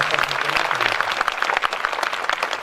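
Audience clapping at a book release function, a burst of many hands applauding together at moderate distance, dense and steady for a couple of seconds with faint background murmur.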